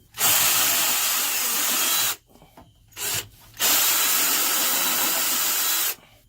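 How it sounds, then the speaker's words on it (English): A power drill whirs loudly in two long bursts with a short spurt between, biting into boat stringers with a grinding, rasping tone. "let's drill out a couple of these and see what they look like"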